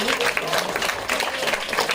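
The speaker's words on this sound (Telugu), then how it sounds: "అందరూ ఒకసారి క్లాప్స్ కొట్టండి" Audience clapping at a Christmas skit performance, a dense steady patter of many hands sustained throughout, with some voices mixed in.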